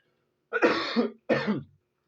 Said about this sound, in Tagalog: Nasamid ako.